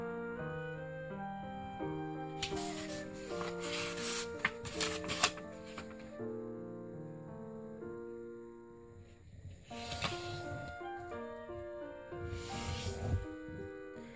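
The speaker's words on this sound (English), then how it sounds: "I will fold the paper in half horizontally" A sheet of US letter printing paper is folded in half, giving crisp rustling and creasing bursts over steady background music.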